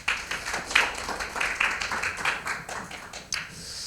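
Audience applause greets a pastor stepping up to present at an ecology and climate seminar held in a church setting, with uneven claps building and fading across several seconds in a moderately quiet room.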